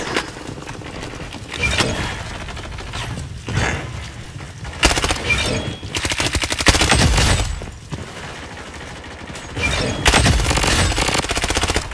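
Guns fire in the Blood Strike shooter game in repeated bursts of rapid automatic shots, loud and close, separated by short lulls across the stretch.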